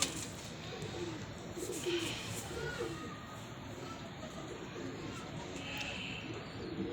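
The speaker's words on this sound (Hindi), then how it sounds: "प्योर फिरोजपुरिया कबूतर होगा" Soft cooing of a Firozpuri pigeon, faint and low against steady background noise, with people talking nearby throughout.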